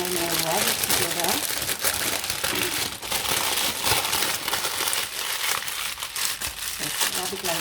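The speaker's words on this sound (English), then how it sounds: "My baking paper, and then I rub it together." Baking paper is rubbed and crumpled close by while making koki, a dense continuous crinkling and rustling that carries on without pause.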